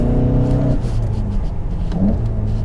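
Volkswagen GTI sports car accelerating, a loud close engine note that holds steady then rises again briefly, heard alone without talk.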